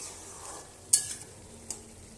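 Ground roasted coriander and cumin spice being stirred into bottle gourd and egg frying in a pan: a soft, quiet sizzle with a few brief scraping clicks of the spoon.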